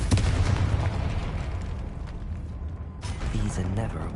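Confringo blasting spell from Hogwarts Legacy erupts in a booming explosion, loud and close, followed by crackling debris and a second burst, with combat noise around it.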